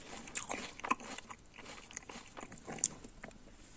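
Crisp apple, a long-stored Richard variety kept in a cellar, being bitten and chewed, with soft crunchy bites and chewing clicks repeating through the stretch at moderate closeness, quiet overall.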